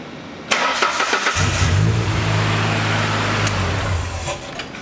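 A truck engine with its intake removed cranks briefly, catches and starts, then revs loudly and holds a rough, steady roar at close range.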